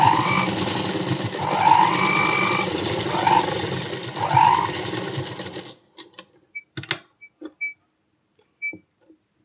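A sewing machine stitches a blouse cup dart in a steady, close whirring run with a few surging peaks, then stops abruptly and leaves scattered light clicks and taps.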